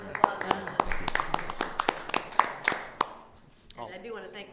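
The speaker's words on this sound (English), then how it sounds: "Another round of applause" A small audience at a town selectboard meeting gives a short round of applause with fairly sparse, distinct claps that fade out after about three seconds, followed by a voice speaking.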